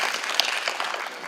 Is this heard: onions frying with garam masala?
no